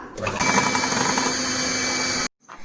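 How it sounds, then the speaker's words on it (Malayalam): An electric hand mixer whirs steadily while beating egg yolks for a chocolate tres leches cake, loud and continuous for about two seconds before cutting off abruptly. "ഇനി നമുക്ക് ഈ എഗ് യോക്ക് ഒന്ന് ബീറ്റ് ചെയ്ത് കൊടുക്കാം."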